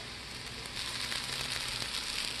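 Oatmeal pancake frying in a pan, a soft steady sizzle with faint crackles, close and continuous, with no talking.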